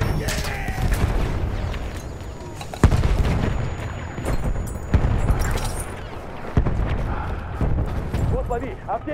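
A grenade going off in the Battlefield 1 multiplayer game, heavy booms landing amid continuous gunfire and battle noise, with voices shouting over the chaos.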